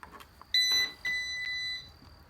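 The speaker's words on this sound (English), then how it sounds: "and it was a green beep" A keypad deadbolt lock gives several electronic beeps: short tones followed by longer sustained ones, close and clear with no talking.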